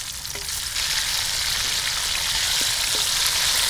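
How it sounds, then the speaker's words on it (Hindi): Chicken frying in hot oil in a karahi, a dense steady sizzle that rises as the pieces go in and holds loud and close, with a couple of faint clinks and no talk. "तो अब इसमें चिकन शामिल कर लेंगे फ्राई होने के लिए"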